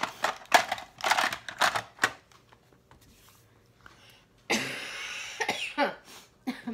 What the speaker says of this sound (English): My smoker's cough.